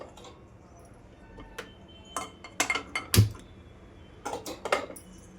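A kadai is set down in a home kitchen amid a scattering of sharp metallic clanks and clinks from pots and pans, several close, irregular knocks with quiet gaps between them.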